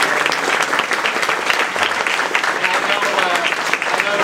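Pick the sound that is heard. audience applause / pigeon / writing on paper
audience applause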